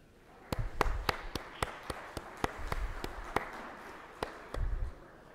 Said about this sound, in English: perhaps we could finish the afternoon by giving all the presenters another round of applause